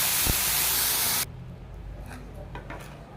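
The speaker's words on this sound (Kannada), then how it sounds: "ಮತ್ತೆ ಇದಕ್ಕೆ ನೀರು ಹಾಕಿ ಒಂದು ದೋಸೆ ಹಾಕೋಣ" Water hitting a hot dosa pan gives a loud spraying hiss that cuts off abruptly after about a second, followed by quieter faint scraping and rubbing sounds.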